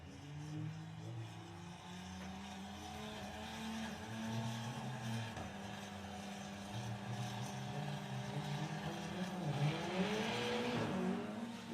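Volkswagen drag race cars run at Santa Pod, their engines droning with rising and shifting tones as they accelerate down the strip, heard from a distance and growing louder near the end.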